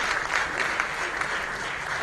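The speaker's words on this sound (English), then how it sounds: "Big round of applause for the Swayam Shikshan Prayog." An audience at a social entrepreneur awards ceremony in India gives a big round of applause, dense and continuous clapping throughout.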